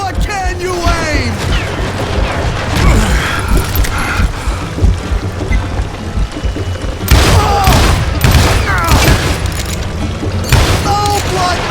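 Gunfire in the Western shooter game Call of Juarez: Gunslinger, with loud booming shots and bursts of rapid fire over a dense mix of game music and effects. Voices talk throughout.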